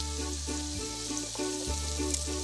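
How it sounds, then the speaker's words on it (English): Delicate little pieces sizzle in butter in a pan where prosciutto was just sautéed, a steady close frying hiss broken by brief clinks and shifts. "I'm just going to place these right into the butter where I sauteed my prosciutto"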